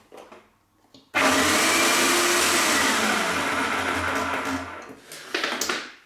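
A Wagner Control Pro 250M paint sprayer pump starts up abruptly after a quiet moment and runs with a loud, steady motor whine and hiss for several seconds before winding down, close and with no talking.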